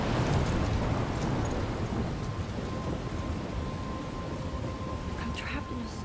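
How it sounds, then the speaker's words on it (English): Thunderstorm with heavy rain in the video game Life is Strange, a dense steady downpour with low rumbling thunder filling the clip at constant loudness, no voices. "I'm trapped in a storm?"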